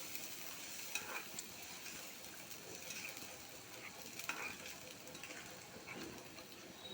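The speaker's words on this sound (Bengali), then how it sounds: "এখন জল দিয়ে দিচ্ছি, জল দিয়ে দিলাম" A thin fish curry with green chili paste simmers in a hot pan after water is poured in, giving a faint, steady hiss and sizzle with a couple of small pops.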